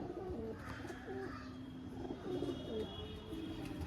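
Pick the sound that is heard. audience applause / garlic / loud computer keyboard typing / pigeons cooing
pigeons cooing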